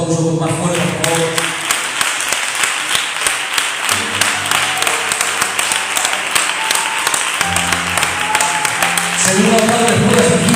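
A church congregation claps loudly and steadily throughout. A voice talks and calls out over the crowd, and tonal music plays underneath.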